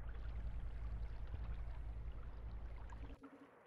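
Water churns and flows in Rain World as the character swims, a quiet, steady wash of low rumbling that stops abruptly near the end, leaving a faint tonal sound.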